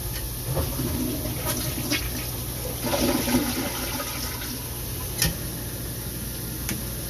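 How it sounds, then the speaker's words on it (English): A toilet flushes nearby, a steady rushing swirl of water running throughout with a few light clicks and taps over it, and no talking. "Good flush."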